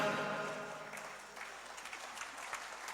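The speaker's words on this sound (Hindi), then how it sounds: "एक बार जोरदार तालियां" Crowd applause at a state-level teachers' award ceremony cultural evening, a dense, steady clapping that starts full and gradually thins over about three seconds, with music fading underneath at the start.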